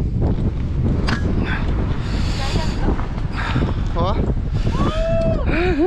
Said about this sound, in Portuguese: Oh, vento frio.